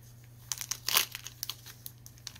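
A plastic team bag holding baseball cards is opened by hand, giving a burst of close crinkling at about one second, with lighter scattered rustles before and after, alone over a faint steady hum.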